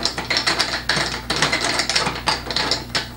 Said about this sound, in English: So you just unscrew the top here.